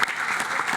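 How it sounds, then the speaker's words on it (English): An audience at a smart growth summit on Long Island claps in a short, full burst of applause, a dense, even patter of many hands filling the room. "So I want to give you a huge round of applause"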